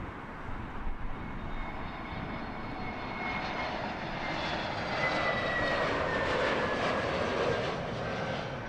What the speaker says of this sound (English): TAP Air Portugal sending their retro 321 into Heathrow